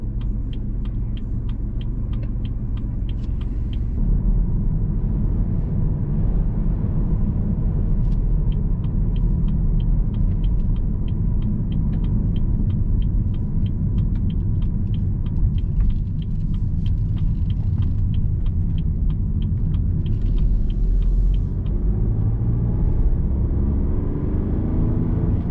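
A car is driven through Amsterdam toward the highway during a driving test, with a steady low engine and road rumble heard from inside the cabin and small clicks and rattles scattered over it throughout.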